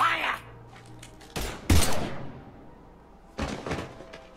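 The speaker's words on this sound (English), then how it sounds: "Now open fire!" Gunfire in the video game Mass Effect 3, two loud, sharp bursts close together followed by another after a short pause, with a faint voice near the start.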